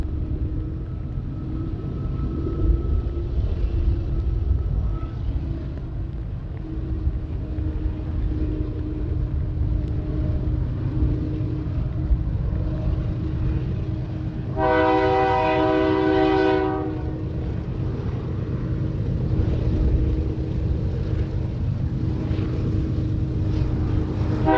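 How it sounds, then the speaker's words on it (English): A freight train rolls northwest past a track maintenance area toward Nolan, a steady loud rumble throughout with a short horn blast near the middle, no voices. "Passing the area of track maintenance, this train accelerates northwest towards Nolan"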